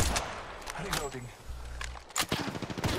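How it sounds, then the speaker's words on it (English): A Sentinel sniper rifle shot in Apex Legends, a few sharp cracks among other bursts of gunfire, with voices talking over the action. "Sounds like a sentinel."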